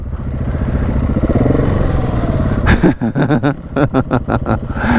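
A Honda XR motorcycle revs hard through sand in Moab, a loud, close engine roar that breaks into rapid throttle blips and gear changes over the second half.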